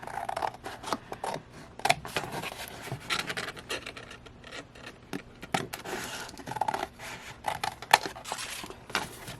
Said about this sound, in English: And I'm just gonna cut them all out.